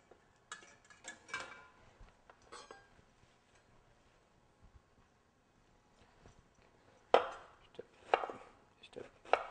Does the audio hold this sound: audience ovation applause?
no